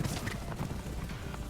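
Horses' hooves clip-clopping in an animated show, a quick irregular run of clopping beats at moderate volume over a busy background, with no speech.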